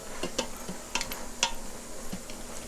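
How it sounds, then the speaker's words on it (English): Onions cooking with sugar in a pot for French onion soup are stirred with a utensil, giving a few sparse light scrapes and taps against the pot over a quiet, faint background. "you're going to stir to prevent the burning"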